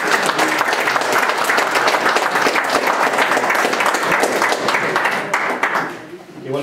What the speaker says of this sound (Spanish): brindarle fuertes aplausos a nuestro amigo Julio Santos